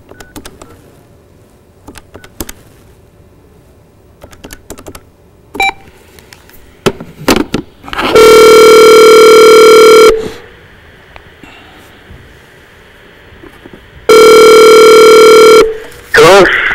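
For a live radio call, a phone line gives scattered clicks and dial tones, then two long, loud ring tones separated by a pause.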